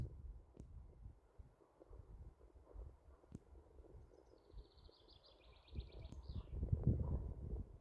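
Distant birds chirp in a quick trilling run over steady outdoor wind noise and low rumble.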